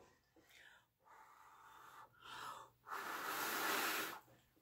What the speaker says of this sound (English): Blow lightly, and then when you're confident that you're going in the right direction, then give it a good huff and puff.